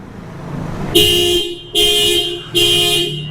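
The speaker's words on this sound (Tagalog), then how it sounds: "Malakas yung busina." Three loud, blaring car horn blasts from a 2026 Toyota Fortuner, each held for about half a second to a second, separated by short pauses, very close.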